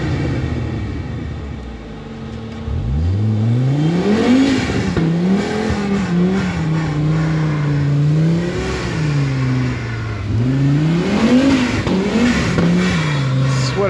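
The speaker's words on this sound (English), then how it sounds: "This is what I've needed more of in my life. Turbo sounds." A turbocharged off-road vehicle engine revs hard and rises in pitch, climbing and falling in waves as it works under load up a steep rocky hill, loud and close.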